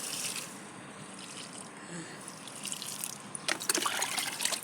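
Water pours and trickles steadily onto pechay and tomato seedlings, with splashy bursts that grow louder toward the end as the flow strengthens.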